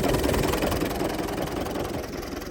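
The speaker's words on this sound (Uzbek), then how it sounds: "Motorlari ham juda ham tekis holatda ishlab turibdi." A Belarus 892 tractor's diesel engine idles steadily nearby, a continuous low rumble with slight knocking texture and no talk over it.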